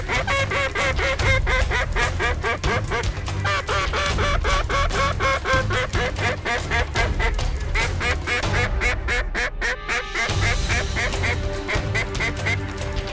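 Ducks quacking during a hunt at Reelfoot Lake, with dense, overlapping calls running steadily throughout at close range, layered and loud without pause.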